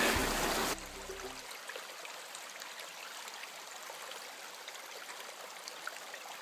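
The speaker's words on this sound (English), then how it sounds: "So down here is the creek." A creek in temperate rainforest flows with a steady, soft, distant rush and gentle trickling, after a brief louder burst at the start, with no talking.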